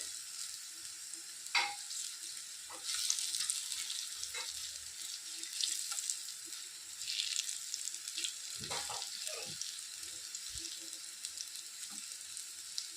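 Cabbage and coriander fritters sizzle steadily in hot oil, a continuous crackling hiss with occasional louder pops and spits, close and alone with no talking.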